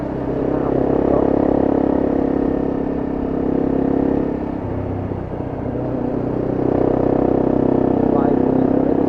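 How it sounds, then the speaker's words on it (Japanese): A motorcycle ridden on a holiday outing at Tsubaki after an oil change, its engine droning steadily under heavy, close wind rush that swells and eases as the bike moves. "バイクに乗れる幸せ"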